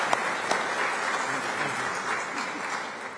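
Steady, moderately distant applause from an audience at an Order of the Palmetto ceremony with South Carolina's governor, an even patter of many hands lasting throughout at modest volume.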